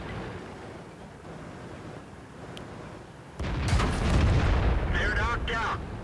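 A tank cannon shot from an M48A1 Patton in a video game, a sudden heavy boom partway through followed by a rumbling tail, with a voice talking over it.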